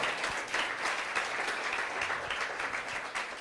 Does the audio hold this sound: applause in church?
yes